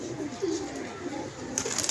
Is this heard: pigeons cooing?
yes